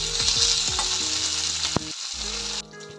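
Byadgi red chillies, five or six of them, frying and sizzling in a pan of hot oil with coriander seeds, a steady loud crackle with stirring scrapes and a brief sharp knock near the end, no voices.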